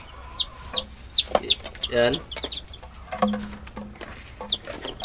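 Chickens cluck and squawk close by, with a brief crow-like call, while a person speaks over them in a busy outdoor setting.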